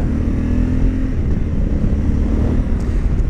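A 2021 Honda Africa Twin motorcycle engine rumbles loudly and steadily up close during a race-track test ride, with wind noise.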